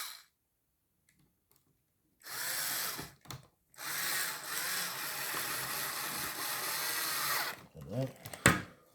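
A power screwdriver with a magnetic bit drives bolts back into a Thrustmaster T300RS racing wheel base after a fan replacement, whirring close up in two short bursts and then one long steady run, with brief handling clatter afterward.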